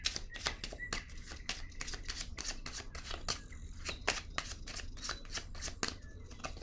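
Tarot cards being shuffled and drawn, a rapid series of crisp riffling and snapping flicks in an irregular rhythm, close and fairly quiet, with no talking.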